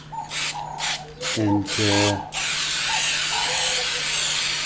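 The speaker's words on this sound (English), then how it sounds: "give it a solid spray, and it'll hold your charcoal onto the painting" An aerosol can of fixative sprays onto a charcoal painting in a few short hissing bursts, followed by a longer steady hiss, with brief talk in between.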